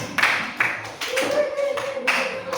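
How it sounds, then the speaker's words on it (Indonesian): A short burst of classroom clapping from students for a group, a few uneven rounds of hand claps with a voice speaking briefly over them. "Tepuk tangan untuk kelompok 1"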